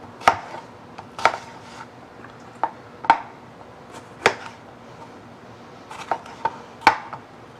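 A knife chops hot peppers coarsely on a board in irregular sharp strikes, about a dozen close, crisp hits with short pauses between, with no voice.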